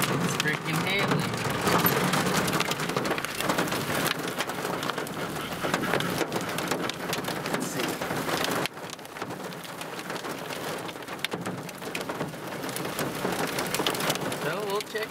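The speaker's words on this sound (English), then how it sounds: "as you can hear, it's freaking hailing" Hail pelting down at a lake in a dense, continuous clatter, loud and close, with a slight drop in intensity partway through.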